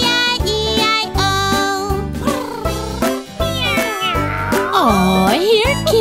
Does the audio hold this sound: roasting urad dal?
no